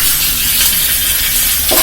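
Curry leaves and mustard seeds frying in hot oil for tempering a white pumpkin chutney, giving a loud, steady sizzle with soft stirring throughout, no voices.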